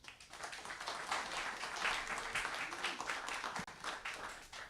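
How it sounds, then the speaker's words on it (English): An audience in New Orleans applauds a speaker at a music history presentation, a fairly faint, continuous patter of clapping that holds for several seconds with slight swells. "give her a warm round of applause"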